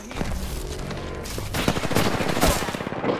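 Gunfire from the Apex Legends video game rattles in dense, rapid automatic bursts with sharp overlapping shots, loud and close throughout.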